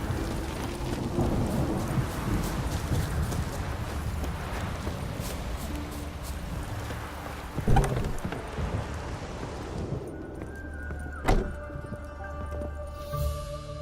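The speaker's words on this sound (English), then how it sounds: "Rain again. Damn mages." Rain hisses steadily in Witcher 3, with a few sharp thunder cracks near eight and eleven seconds standing out against the wash before it thins toward the end.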